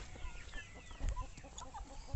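Chickens on a farm range clucking softly in a short outdoor scene, scattered quiet calls and rustling with a brief louder bump near the middle and end.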